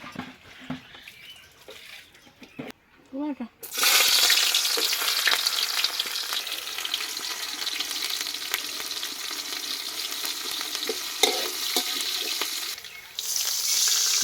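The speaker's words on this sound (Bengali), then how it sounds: "প্রথমে তেল তারপরে তেলটা একটু হিট আসার পরে পেঁয়াজ মরিচ" Onion and chili hitting hot oil for a green banana curry, a loud burst of sizzling that erupts after a few quiet clinks and keeps crackling steadily, with occasional stirring scrapes and no talking.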